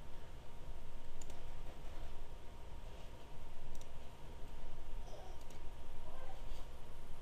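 Sharp computer mouse clicks, about three of them spread out, over a steady background hiss while a file downloads for a PS3 Backup Manager install.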